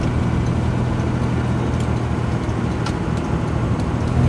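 Alvis TF21 car cruising at about 55 mph, then braking with the overdrive off. Its engine and road rumble hold a steady, loud drone from start to end, with no voices.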